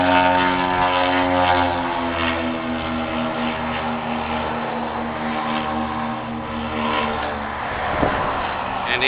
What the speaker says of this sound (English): trying to get you a good shot of the Good Year Blimp